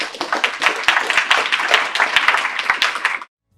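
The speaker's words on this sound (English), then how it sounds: "Let's give Tom and George a big round of applause." An audience applauds Tom and George at the close of a two-hour session: dense, steady clapping from many hands that fills the room for about three seconds, then cuts off abruptly into silence.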